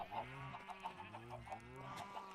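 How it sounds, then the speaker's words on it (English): Minecraft chickens cluck in a game world, a series of short, rhythmic, nasal clucks repeating several times, clear and alone with no voices over them. "A bunch of chickens."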